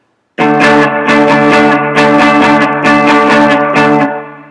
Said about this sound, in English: So the strumming pattern should be like this on 5 and 7